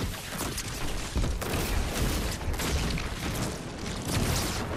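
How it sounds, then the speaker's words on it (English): Repeated gunfire in Fortnite aimed at a rock, a dense run of loud close shots and impacts with booming hits scattered across the whole stretch, no clear talking on top. "Just keep shooting."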